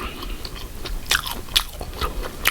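Crisp bites and crunchy chewing of a spicy, oily Chinese tofu snack, several sharp crunches close up in a quiet room.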